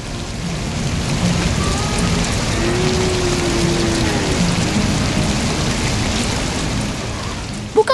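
Steady rain falls in an animated cartoon scene as the sky turns dark, a constant, even hiss of drops with a low rumble beneath, ending in a couple of sharp taps.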